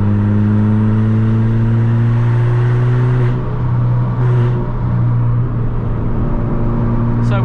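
A modified Ford Fiesta MK6 Zetec S with a Hornet straight-pipe exhaust cruises from inside the cabin, a steady loud engine drone with a deep exhaust tone that dips briefly and then holds again.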